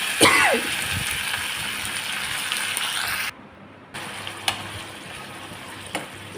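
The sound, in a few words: chicken pieces being stir-fried in a pan for chicken kulambu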